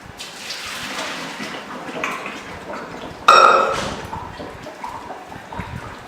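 Hot water, left over from melting chocolate, is tipped from a bowl into a kitchen sink. A low running splash is followed by a sudden loud pour and a bright clink of the bowl, then it fades.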